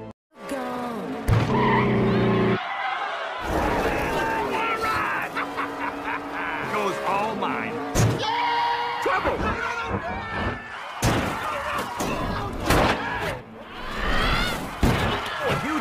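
Race cars in the animated film Cars pile up in a crash, with repeated loud metallic slams, tyre skids and horn-like honks in a dense, chaotic mix, with voices mixed in.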